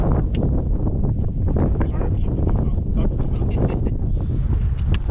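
Strong wind on an exposed mountain trail in the Wind River Range roars and buffets the microphone in a continuous, loud, gusty rumble.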